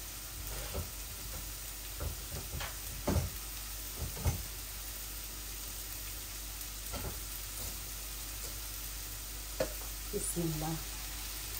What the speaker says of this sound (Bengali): এই একসাথে আমি তিতা কেরালাটাও ঢেলে দিব।